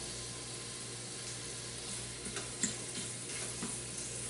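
A pork chop frying in oil gives a quiet, steady sizzle close by, broken by a few faint pops and ticks of spattering fat, with no voices.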